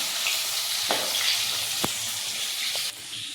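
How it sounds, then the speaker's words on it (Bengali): Pieces of food sizzling in hot oil in a pan, a steady close crackling hiss with a few sharp spatters, no talking. "অর্ধেক অর্ধেক করে ভাজি, হ্যাঁ 4 পিস ভাজি, 3 পিস বাকি আছে।"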